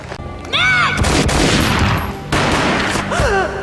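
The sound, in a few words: gunshot in the Max Payne video game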